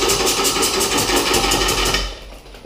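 A wood lathe spins a moldy maple blank at about 350 rpm with a steady, loud mechanical hum and rapid rhythmic pulsing that fades off toward the end.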